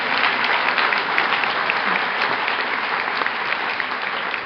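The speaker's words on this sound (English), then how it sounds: "let's give the committee another warm round of applause." A crowd at the Music City Roundup in Nashville gives the committee a warm round of applause, many hands clapping in a continuous, even roar that holds strong to the end.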